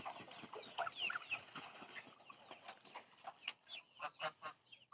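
Geese honk and cackle in a busy, overlapping chorus, with scattered calls close by and others farther off, fairly quiet overall.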